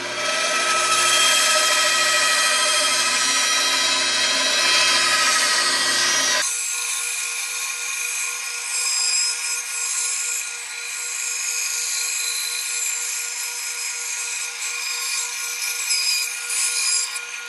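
A power tool cuts a doorway notch into a wooden dog bed board, making a loud, steady whine for the first six seconds. It then drops to a quieter, lingering mechanical hum.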